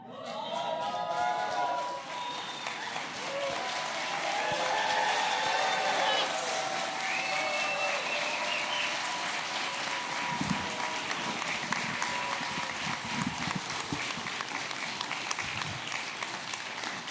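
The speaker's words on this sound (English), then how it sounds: "I need you to do your best football cheer" An alumni audience gathered at a UCSF talk bursts into a loud, sustained football cheer, with overlapping shouting, whooping voices and clapping filling the hall before slowly tapering off.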